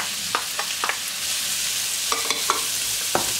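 Onion, garlic and peppers sautéing in butter, a steady hiss of frying with a handful of sharp, irregular spatula clicks and scrapes against the pan.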